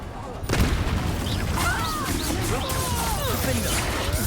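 A fire spell from the video game Hogwarts Legacy bursts out with a loud crash and then a dense, roaring crackle of flames. The sound holds at full strength, with game voices over it.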